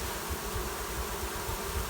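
Dense, loud hum of many honeybees buzzing together close by, a continuous swarming drone with no voices.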